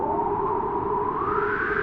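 Wind effect from a keyboard synthesizer, a steady hollow whoosh with a slowly rising whistling tone, continuous and moderately loud with no talk.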